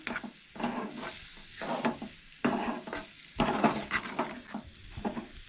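Masala for a Goan egg curry with coconut gravy is stirred in a pan with a spoon, giving repeated scraping and clinking bursts at an uneven rhythm, close by and fairly soft.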